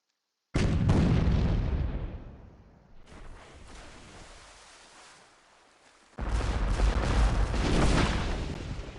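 Cannon fire from ships in the naval trading game Port Royale 2, heavy booming blasts that roll out and decay, then a second loud volley erupts after a quieter rumbling stretch.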